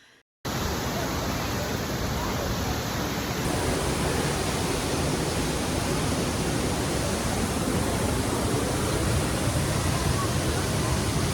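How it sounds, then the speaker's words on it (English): A mountain waterfall in Costa Rica roars with a loud, unbroken rush of falling water, close and constant after a brief quiet opening. "we hiked down this beautiful mountain to this incredible waterfall"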